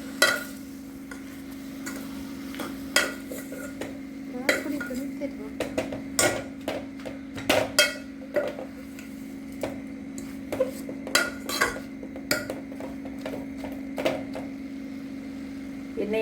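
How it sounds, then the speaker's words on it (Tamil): A spoon scrapes and taps against a pan as spinach is stirred in oil, a steady series of sharp metallic clinks over a low constant hum, fairly quiet and close with occasional speech. "எண்ணெயில் கொஞ்சம் கீரை கொஞ்சம் வதங்கணும்"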